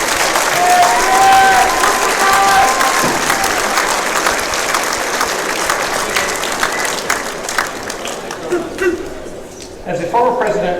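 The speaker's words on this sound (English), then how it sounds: "Let's have a nice round of applause for our W.B." Loud, continuous audience applause for W.B. Hawkins nominees in a gym at a girls' basketball game, with scattered cheers that taper slightly toward the end.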